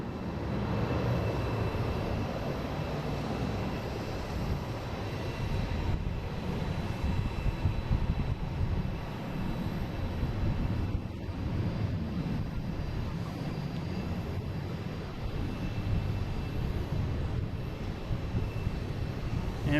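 An American Airlines airliner, flight 1577 from Dallas Fort Worth, rumbles steadily at Boston Logan, a distant broad engine drone with no talking.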